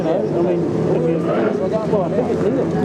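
An offshore racing powerboat engine drones loudly and steadily with an uneven, rough tone as it runs off song, overlapped by a commentator's voice.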